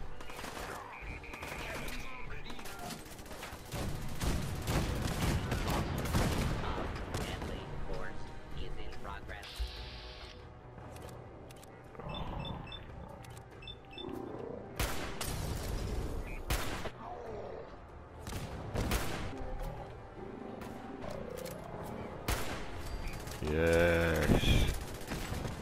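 Bursts of gunfire from a gun in Fallout 4 come in scattered volleys across the stretch, some sharp and loud, set under frequent talking.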